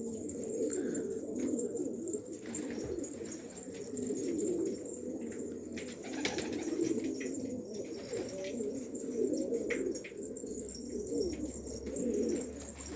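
Pigeons coo repeatedly in a low, rolling murmur close by, with soft wing flutters and a few faint chirps over a steady background.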